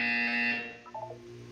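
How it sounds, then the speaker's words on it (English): A buzzer in the video game Portal sounds a short, loud electronic drone that cuts off after about half a second, followed by a few faint electronic blips over a low hum. "When you hear the buzzer, look down at the floor."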